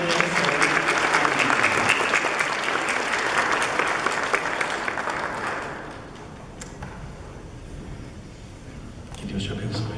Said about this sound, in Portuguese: Vamos dar uma salva de palmas para essa família que hoje recebe.